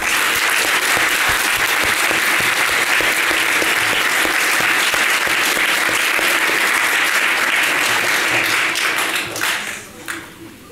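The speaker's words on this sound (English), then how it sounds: "Please join me in a round of applause for all of them." An audience applauds a speech at an event, with dense, loud, continuous clapping that holds steady for several seconds before tapering off near the end.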